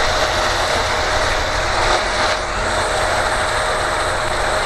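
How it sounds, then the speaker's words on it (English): A running dishwasher gives a loud, constant mechanical whir and hum with a faint rattling texture, steady throughout with no voices over it. "The sound of a dishwasher."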